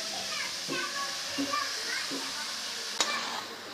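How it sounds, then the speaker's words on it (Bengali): Grated carrot and beetroot being stirred in a frying pan with a steady sizzle, soft scraping strokes repeating under a faint voice, and one sharp clack near the end. "গাজর বিটটাকে আমি ভালো করে নেড়ে নেব।"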